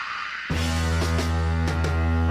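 A sudden burst of broad radio static in a song, cutting in abruptly and hissing loudly over a droning low hum with occasional crackling surges.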